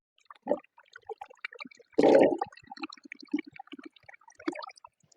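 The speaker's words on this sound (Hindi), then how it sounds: "तो एक दफ़ा फिर इसे धो लेते हैं अच्छे से।" Water chestnuts being washed and scrubbed by hand in a basin of water, soft sporadic splashes and drips with one louder sloshing burst in the middle, close and quiet.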